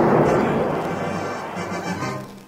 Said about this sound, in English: Explosions rip through the base,